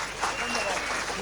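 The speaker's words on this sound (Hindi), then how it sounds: "इसलिए ताली बजाइए।" An audience at a Hindi comedy and political satire performance claps in a steady wash of applause, with a voice partly heard over it.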